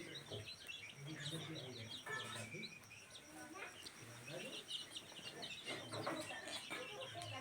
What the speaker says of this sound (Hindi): सोनाली मुर्गी का जो चूजा है वही है